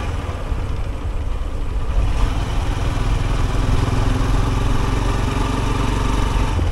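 A motorcycle engine drones loud and steady from up close while riding a mountain road toward Sikkim, a continuous rumble with wind buffeting.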